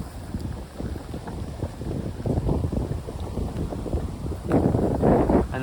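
Cold, gusty northeast wind rumbles against the microphone, surging in uneven bursts and growing stronger toward the end.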